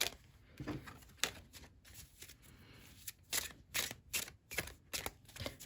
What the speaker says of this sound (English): this is a beautiful shuffle on these cards